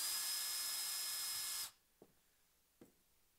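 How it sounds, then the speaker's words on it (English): Power drill pre-drilling small pilot holes for tiny hinge screws while a hinge is being mortised, a steady whine of about a second and a half that stops, followed by two soft clicks. "I'm going to pre-drill before I drive those home."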